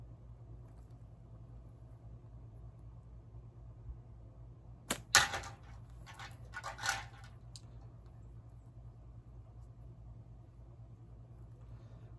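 A slingshot with South Wales catty bands fires a single shot, a sharp snap followed by a brief whoosh and faint impact, distinct against a low steady outdoor hum.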